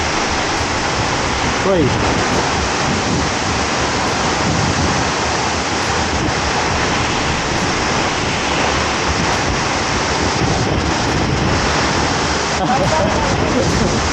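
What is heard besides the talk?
tiered waterfall at Lubuk Hitam, Padang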